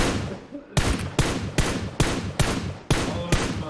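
Rapid gunfire in a shooter video game on the Miramar map, loud repeated bursts of shots at a steady rhythm, close up.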